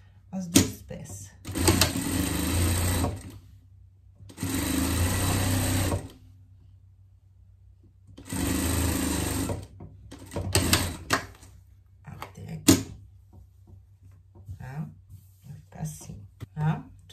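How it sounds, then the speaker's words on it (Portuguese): Two fabric pieces for the back of a pet jester costume are joined on a sewing machine in several loud, close bursts of stitching, with a person talking in the pauses between runs. "aqui vamos passar uma costura aqui, juntando as duas peças"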